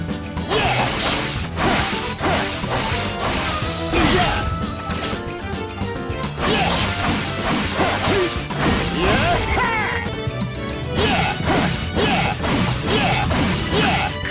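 Date Masamune's sword attacks from Sengoku Basara, in his six-sword stance: dense, loud bursts of blade slashes and crashing impacts against game music, with a brief lull near the middle.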